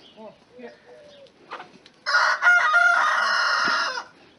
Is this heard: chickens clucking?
yes